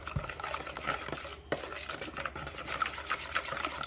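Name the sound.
mixing pumpkin peanut butter dog treat batter with a dipper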